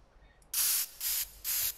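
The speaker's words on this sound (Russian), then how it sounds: "Первый предмет — это баллончик с краской." A spray paint can in the video game Teardown hisses out three loud, bright bursts of roughly equal length separated by short gaps, with no talking.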